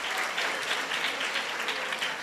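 Dense, steady applause from an audience at a Christmas program, a continuous wash of many hands clapping at moderate loudness with no pauses.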